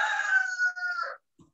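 A neighbour's rooster crows once, a loud, clear, drawn-out call that breaks off abruptly, followed by a faint short cluck.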